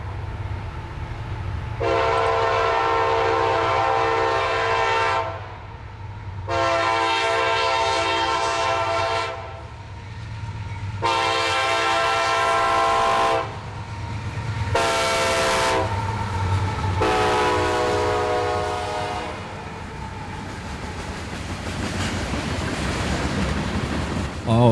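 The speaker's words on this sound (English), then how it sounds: "there certainly was excitement for this train coming" A freight train hauled by specially painted locomotives passes, its low steady rumble running throughout beneath several long, loud horn blasts sounded in separate bursts.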